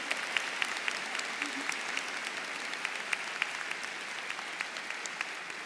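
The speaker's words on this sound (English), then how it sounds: "We have to have much applause." Audience at an awards ceremony in Constitution Hall applauding steadily, a dense, fairly faint wash of many hands with scattered sharper claps, no voices over it.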